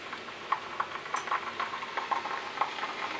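Ginger-garlic paste frying with onions in a pan for a soybean and potato curry: a soft, steady sizzle with scattered light clicks and scrapes of stirring, close and fairly quiet, with no talk.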